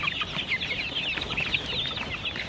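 Roosters pecking and feeding on raw cassava, with a steady busy chatter of clucks and squawks from several birds close by, no talk over it.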